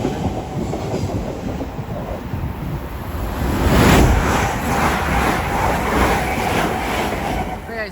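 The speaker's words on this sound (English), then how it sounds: "As also passing will be a pair of Great Western Railway 387s going from Discontinued Parkway to London Paddington" Two Great Western Railway class 387 electric trains pass at West Ealing on the Great Western Main Line, a loud close rushing rumble with rhythmic wheel clatter that swells midway and stays steady.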